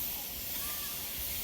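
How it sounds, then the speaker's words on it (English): A ribeye steak sizzles on a grill with a soft, steady hiss that stays even and fairly faint throughout, with no talking over it. "Hear that sizzle?"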